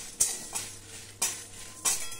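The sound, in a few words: stirring dry chilli, cumin and coriander roasting in pan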